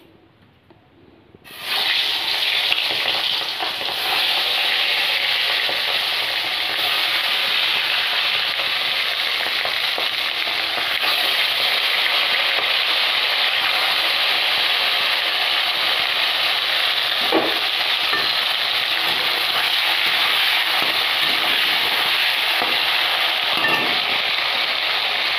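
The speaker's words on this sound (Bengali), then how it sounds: "আমি এবার চিংড়িগুলোকেও ভেজে নেব।" Shrimp frying in hot oil in a home kitchen, a steady loud crackling sizzle that begins abruptly after a quiet second and holds continuously, with a few faint clinks, no talking.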